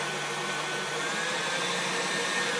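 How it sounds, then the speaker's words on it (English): Stand mixer whirring steadily as it stirs pure pumpkin in the bowl for pumpkin pie filling, a continuous close motor drone without talk. "28 ounces of pure pumpkin into the bowl, in the mixer, and we're just going to stir that up for a bit."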